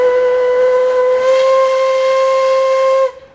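A steam train whistle on the Puffing Billy Railway blows one loud, steady, sustained note for about three seconds, heard close and alone before it cuts off sharply.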